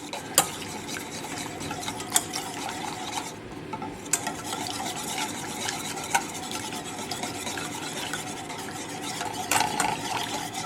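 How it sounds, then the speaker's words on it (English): A whisk beating minced garlic into a homemade ranch sauce in a bowl, a continuous quick rhythmic scraping and swishing with occasional sharp clicks against the sides. "And so now I'm going to whisk this all together."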